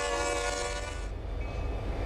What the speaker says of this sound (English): That train's making its way around the corner up here.